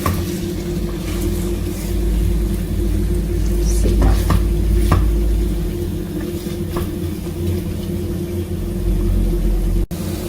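Sai, a traditional Uttarakhand sweet, frying in a pan with a steady dense sizzle and a low constant hum, with a few faint stirring clicks midway, close and without talk.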